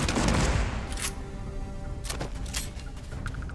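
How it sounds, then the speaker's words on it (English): Shotgun blasts fired during combat in the Starfield video game, several heavy booming shots spread across the moment, loud and close with a sharp crack at the start. "I just need to get more used to using a shotgun a little bit"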